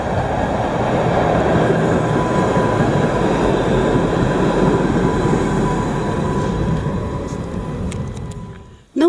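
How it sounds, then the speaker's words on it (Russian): A tram rumbles past on city tracks, a loud steady rolling roar close by that fades toward the end with faint squeaks, without talk. "А вот это уже трамвайчик, судя по всему."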